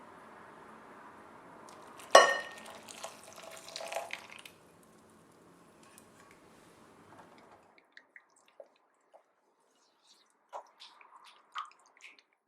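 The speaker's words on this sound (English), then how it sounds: "Pour on the cream and then mix until you get a rich, thick, consistent chocolate ganache." Cream being poured over chocolate and stirred into a thick ganache, a wet pouring splash followed by soft, intermittent squelching and dripping sounds that grow sparse and quiet.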